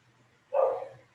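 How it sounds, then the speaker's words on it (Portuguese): A single sharp dog bark rings out nearby, briefly cutting through an otherwise quiet, faintly humming background. "Desculpa o barulho do cachorro"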